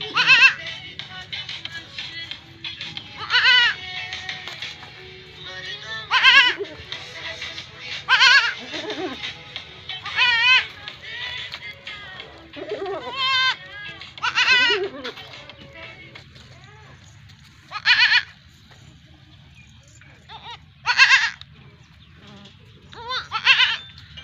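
A crossbred goat that has just given birth to two kids bleats again and again in short loud calls spread over the clip, with a steady low hum underneath.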